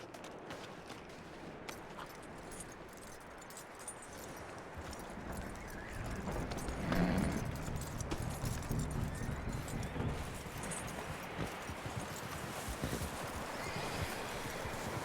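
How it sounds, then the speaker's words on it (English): Horse hooves clip-clop steadily in the Red Dead Redemption 2 video game, a continuous rhythmic patter under a busy outdoor ambience. The sound grows somewhat louder midway through. "That looks like a decent horse."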